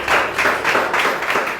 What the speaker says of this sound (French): Est-ce qu'on peut applaudir pour ce monsieur,